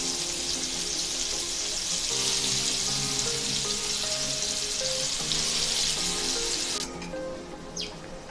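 Vam fish pieces laid on garlic fry in a pan with a loud continuous sizzle close by, and the hiss dips near the end.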